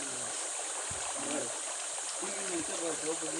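Water rushes steadily at a waterfall in Krishnagiri district, a continuous broadband flow heard close up with someone talking over it.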